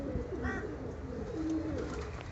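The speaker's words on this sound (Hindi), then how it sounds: "ये देखें कबूतर" Pigeons coo softly in low, throaty burbles against a steady background murmur.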